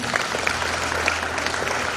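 Wedding guests clapping loudly together, a dense continuous burst of applause from a close crowd with little else audible.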